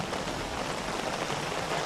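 Rain falling at night in the Kalimantan jungle, a dense steady hiss of drops pattering on surfaces, close and continuous.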